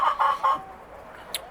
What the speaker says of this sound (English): I have 2 or 3 dark colored Easter egger